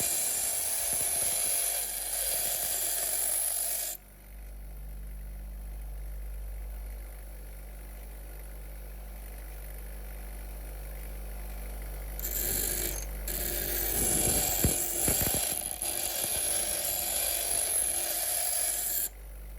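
Sharpening a Sovereign BL100 garden shredder blade on a relatively coarse oilstone gives steady, close rasping strokes that run for a few seconds, stop for a long quiet stretch, then resume with heavier scraping.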